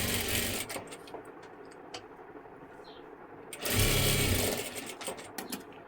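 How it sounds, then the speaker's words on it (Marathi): A sewing machine double-stitching a katori blouse runs in close, loud bursts of rapid mechanical whirring and clatter, pausing briefly between runs. "डबल शिलाई देऊन घ्यायची"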